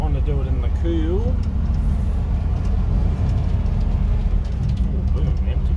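An old, worn truck creeps slowly down a road on a cool evening, its engine a continuous low, rumbling drone with a steady mid-range rattle, close and constant, briefly overlaid by a voice near the start.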